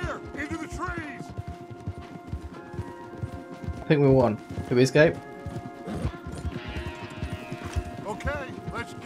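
Horses gallop in the video game Red Dead Redemption 2, their hoofbeats drumming steadily beneath people talking, with a sharp crash-like burst partway through.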